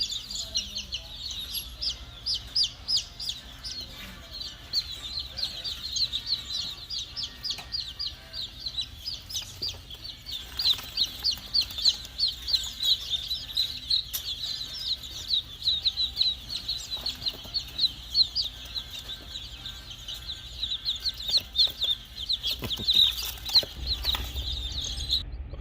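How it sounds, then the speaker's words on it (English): A flock of chickens clucking on a chicken farm, a steady chorus of rapid, overlapping clucks and chirps close by, with occasional wing flaps and faint background noise throughout. "Lazy Pond Farm is a chicken farm again."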